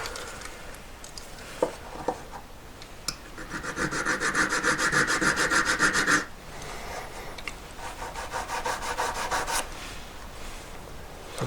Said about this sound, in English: I'm gonna fold it up after filing a V inside